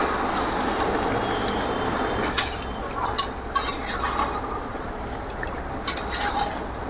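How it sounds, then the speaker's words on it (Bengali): Fried potatoes tipped into a pan of chicken kasha, with a few distinct clinks and scrapes of spoon and metal pan over a steady low sizzle, no voices. "এবারে আমি ভেজে রাখা আলুগুলো দিয়ে দেবো।"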